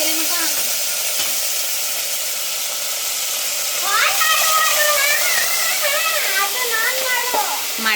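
Spices tempering in hot oil in a pan while cooking sambar and chicken dishes, a steady close sizzle with stirring, while voices talk over it and a few whistly tones rise partway through.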